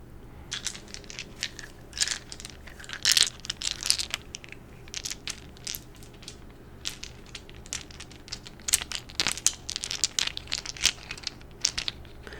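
Resin dice clatter and rattle in a series of sharp, irregular clicks and tumbles, close and crisp, with quiet handling noises between bursts and no talking.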